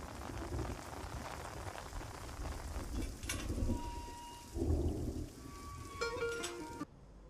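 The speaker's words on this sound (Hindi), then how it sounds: "रुको, बरसात हो रही है, छाता लेकर जाओ।" Rain falls as a steady hiss of patter on surfaces, fairly soft, with a few brief tones and a knock mixed in before it cuts off near the end.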